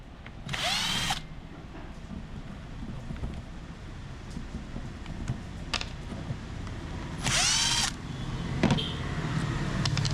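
A power tool backing out the screws on an angle grinder gear case, with two loud, short whirring bursts separated by quieter clicks and handling noise close by.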